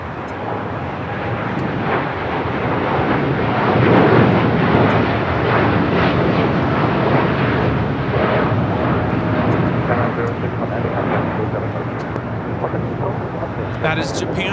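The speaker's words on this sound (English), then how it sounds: "That is Japan Airlines Flight 61 taking off to Tokyo Narita on a 787-9 Dreamliner" Japan Airlines Boeing 787-9 Dreamliner taking off from LAX bound for Tokyo Narita, a loud sustained jet engine roar swelling and holding steady throughout, with a commentator talking over it.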